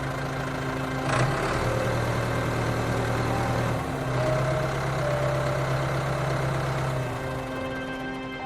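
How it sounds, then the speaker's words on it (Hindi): A tractor loaded with sacks of rice pulls in, its engine holding a steady low idle-like drone with a brief clank near the start and a pitch shift partway through, continuous and fairly close. "उतने में ही चावल की बोरी से लदी ट्रैक्टर आ जाती है।"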